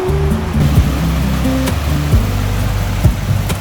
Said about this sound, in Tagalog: Malakas na ulan, hangin, kulog at kidlat.